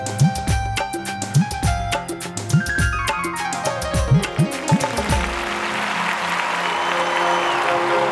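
Studio audience applause on a morning TV talk show welcoming guests, steady clapping that builds into a dense wash while musical tones play alongside.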